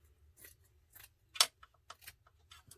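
Scissors snip bunny ears for a DIY gnome-style bunny, making a series of close, crisp, irregular cuts with one sharper snip in the middle.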